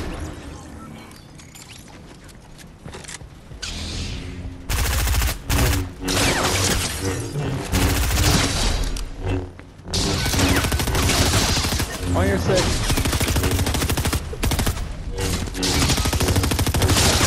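SMG gunfire in Fortnite during a Star Wars Order 66 match: long, dense, loud bursts of rapid automatic fire that start after a quieter opening and keep rattling with brief gaps, alongside crashes and other game effects.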